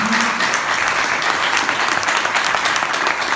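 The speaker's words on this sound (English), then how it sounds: "A big applause." Audience applauding at the end of a stage talk at a Smart & Green event, a dense steady patter of clapping from a crowd throughout.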